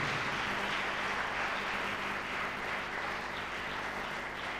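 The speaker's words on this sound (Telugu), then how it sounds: "గట్టిగా చప్పట్లు కొట్టి ప్రభుని స్తుతించండి" A church congregation clapping loudly in praise, a dense, sustained burst of applause filling the room at steady volume with no voices standing out.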